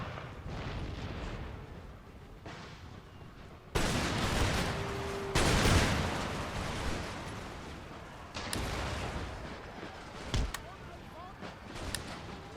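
Troops fire at a hill in a Napoleonic-era war strategy game with Swedish and Prussian forces, a faint distant rolling of musketry and booming volleys under a speaking voice.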